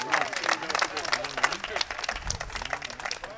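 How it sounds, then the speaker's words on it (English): An audience at a Kennedy event in Aurora claps for Adam Vasquez, a dense patter of applause running throughout, with a voice speaking loudly over it. "let's give a big round of applause for Mr. Adam Vasquez"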